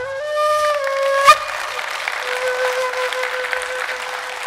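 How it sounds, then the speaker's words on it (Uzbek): A concert audience claps steadily after a sustained musical note fades, the applause continuing evenly to the end. "mana bu qarsaklar bo'lsa"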